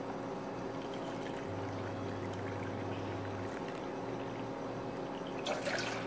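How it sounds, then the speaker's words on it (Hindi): Two cups of water are poured from a cup into a pan to start a sugar syrup for kunafa, a soft, steady stream of liquid running for several seconds with a faint hum underneath. "सबसे पहले हम ये इसी कप से 2 कप पानी डालेंगे।"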